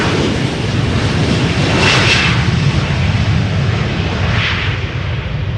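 Jet airliner on a relocation flight at Schiphol's Polderbaan, its engines giving a loud, steady broadband roar with rushing swells that rise and ease across the whole stretch, no voices over it.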